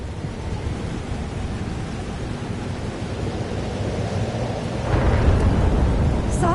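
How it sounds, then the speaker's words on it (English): Thunderstorm ambience from the video game Life is Strange: Double Exposure, a steady wash of rain with low, continuous rumbling that swells into a louder thunder roll near the end, with no speech. "It's here too. But there wasn't a storm the day Safi died."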